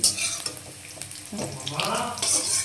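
Chickpeas are lightly fried in a pan for ghugni-style chaat, a soft sizzle with stirring scrapes and a wet clatter midway, close by, while a voice murmurs faintly in the background.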